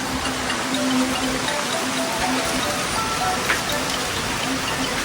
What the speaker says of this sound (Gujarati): આ જો ઘણો વરસાદ આપે છે.